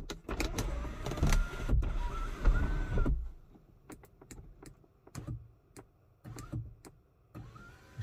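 A powered sunroof blind on an MG ZS EV 44.5kWh Exclusive motors shut inside the car, a soft whirring hum under scattered clicks and knocks, then falls quieter with a few more faint clicks.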